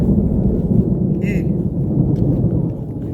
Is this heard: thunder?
yes